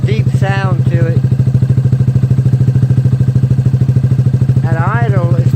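Close, loud, steady idle of a Honda Grom motorcycle with an M4 aftermarket exhaust, a deep rhythmic putter that runs throughout while a person talks over it at the start and end.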